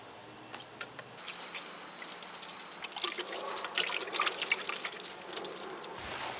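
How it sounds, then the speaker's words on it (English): Water trickling and pattering steadily onto a worm compost bin nearby, growing slightly louder as the pouring continues, then cutting off. "For the last step, we're gonna water it."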